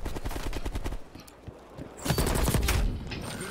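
Rapid automatic AK rifle fire in Black Ops Cold War multiplayer, loud close bursts in quick succession, a short lull, then another heavy sustained volley.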